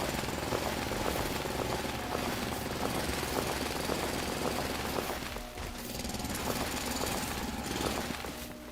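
Mechanical drilling in the factory-building game Foundry, a dense, loud rattling grind that runs continuously with a brief dip partway through, with no talk over it.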